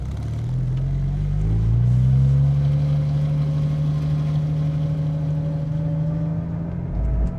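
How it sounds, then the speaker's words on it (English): Engine and exhaust of an older Porsche 911 Turbo while driving, a steady deep rumble with a rising drone as it pulls, loud and close without speech. "I'm definitely gonna be putting the audio of the exhaust in and out because I can see it on the camera and it's like blowing out."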